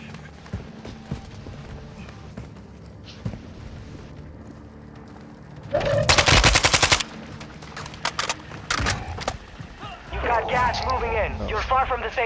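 Bursts of automatic rifle fire in Call of Duty: Modern Warfare II, a loud rapid volley cutting through midway followed by scattered shots, with voices talking over the battle ambience.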